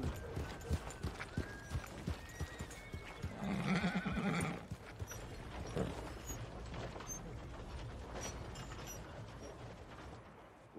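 A horse in Red Dead Redemption clip-clops at a walk with rhythmic hoofbeats, then gives a loud, drawn-out neigh midway before the hooves continue more softly under faint background ambience.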